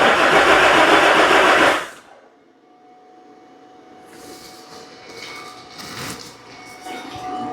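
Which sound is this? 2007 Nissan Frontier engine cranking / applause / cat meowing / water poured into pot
2007 Nissan Frontier engine cranking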